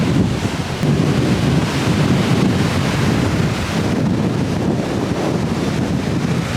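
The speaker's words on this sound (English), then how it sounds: "I'm definitely gonna miss the sound of that, the wind and the crashing waves" Strong wind buffets the microphone over a steady roar of ocean waves crashing and washing in, loud and continuous with no voices.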